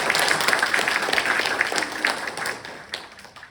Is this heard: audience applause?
yes